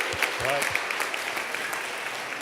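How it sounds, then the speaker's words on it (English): Conference audience clapping in a steady, dense wash of applause, with a few brief whoops and cheers breaking through near the start. "So let's have a round of applause."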